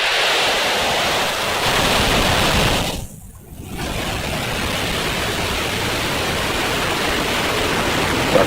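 A SpaceX Falcon 9 rocket lifts off from Space Launch Complex 40 at Cape Canaveral, Florida, on a Starlink mission, a distant, broad rumbling roar like heavy surf that briefly dips, then returns as a sustained wash of noise.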